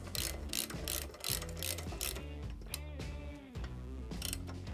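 A hand ratchet tightens the bolts of a Gasbox tall chopper sissy bar on a 2004-or-later Harley-Davidson, giving rapid rhythmic clicking strokes that pause briefly between bursts, close and fairly quiet.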